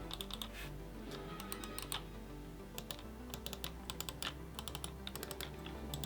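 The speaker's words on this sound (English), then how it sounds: "both the buttons and the joystick give a satisfying click to let you know when something is being" Micro-switch arcade buttons and joystick on a Street Fighter II RepliCade mini cabinet, rapid light plastic clicks in uneven bursts over faint game music, close and quiet.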